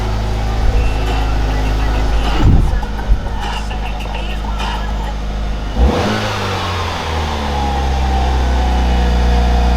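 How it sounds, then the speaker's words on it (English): A Mitsubishi Evo 4 engine, freshly fitted with a new air filter, plugs and wires, revs loudly and nearby in two sharp bursts over a running idle, then settles back to a rough, steady idle. "Let's give it some revs."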